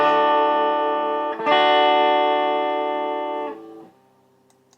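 An electric guitar through a Fender '65 Deluxe amp rings out a bright, harmonically rich sustained chord, re-struck once, then decays over a few seconds into quiet, loud and close.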